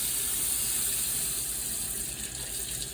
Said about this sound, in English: Rinse the plunger.